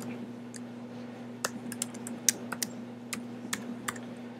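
Terminal commands are typed on a computer keyboard: irregular, crisp key clicks in short bursts over a steady low electrical hum, close and fairly quiet, with no talking.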